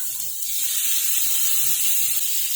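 Garlic paste hits melted butter in a hot nonstick pan, giving a sudden loud hiss and sizzle that swells after a quiet start and holds steady.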